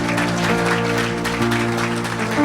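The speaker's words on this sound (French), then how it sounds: "Acclamez Jésus pour cela." A church congregation claps for Jesus, a steady dense patter of many hands blended with sustained keyboard music at a fairly loud level.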